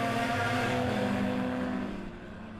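Race cars roaring around the track at Monett Motor Speedway during a heat race, a dense, sustained engine drone from several cars at once that fades slightly toward the end as they pull away.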